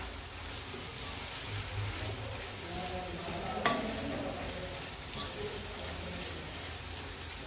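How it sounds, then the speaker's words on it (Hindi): Bitter gourd and chicken frying in a pan for a kareela gosht dish, a steady close sizzle with stirring and a single sharp clink partway through. "तो इन सब चीज़ों को जो तकरीबन हम 10 से 15 मिनट जो है वो तकरीबन और फ्राई करेंगे।"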